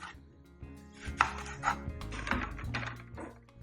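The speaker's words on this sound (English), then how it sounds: "I'm just chopping it up into chunks so it softens nicely" Eggplants being chopped into chunks on a board for a Ghanaian garden egg abomu, a run of uneven knife thuds and clicks over light kitchen background, close and moderately loud, with no talking.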